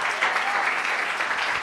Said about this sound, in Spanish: Den aplauso si lo está entendiendo.